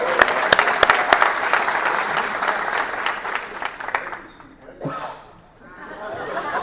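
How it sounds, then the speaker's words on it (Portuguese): Audience at a church couples event breaks into loud applause mixed with chatter and laughter, the clapping fading out after a few seconds before crowd murmur rises again. "Ouviu uma salva de palmas, irmãos?"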